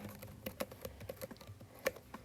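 Keys tapped on a computer keyboard while a last name is typed into a document footer, a short run of light, irregular clicks at close range with no talking.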